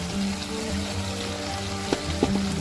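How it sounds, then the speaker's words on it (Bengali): Already-fried potatoes tipped into a hot pan, a steady low sizzle with a couple of sharp clatters near the end, close and without talk. "এবার দিয়ে দেব ভেজে রাখা আলু"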